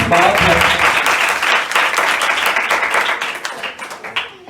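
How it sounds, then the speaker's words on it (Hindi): An audience at a religious sermon gathering bursts into loud, dense applause that carries on for several seconds with voices mixed in, then thins slightly toward the end. "सब अपने लिए जरा ताली हो जाए"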